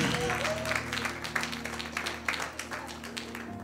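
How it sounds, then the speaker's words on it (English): A church congregation claps in praise, a dense burst of applause under a sustained organ or keyboard chord with some voices mixed in, fairly close and steady throughout. "Come on, give God a hand clap of praise."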